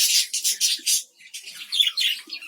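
A colony of budgerigars calls at close range: rapid bursts of shrill chirps and squawks overlap in a busy, chattering stream with brief pauses between bursts.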